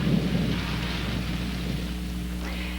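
A thunderstorm with steady rain falling, a low rumble of thunder rolling underneath a constant, soft hiss of rainfall, faint and even throughout.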